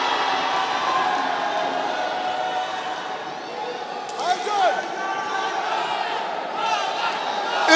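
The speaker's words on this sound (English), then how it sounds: "You can hear the crowd. They're chanting." A boxing match crowd chanting in the arena, a steady loud wash of massed voices with a brief burst of louder cheering near the middle, while a commentator talks over it.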